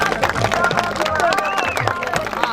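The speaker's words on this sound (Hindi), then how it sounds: "तालियां हो जाए" Lively clapping from a crowd at a cricket tournament awards ceremony, mixed with crowd noise while someone speaks loudly over it.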